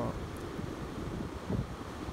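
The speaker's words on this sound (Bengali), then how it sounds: "সকাল থেকে অনেক বাতাস, আর এখন একটু বৃষ্টিও হচ্ছে হালকা পাতলা" Strong wind off the sea during Cyclone Remal produces a low, steady buffeting roar over the microphone with a faint wash of surf beneath it. The sound is fairly quiet overall and no voices are heard.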